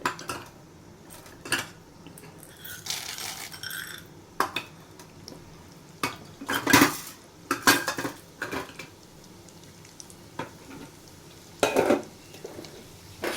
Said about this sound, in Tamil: இது நல்லா செவுக்கிற மாதிரி வறுக்கணும்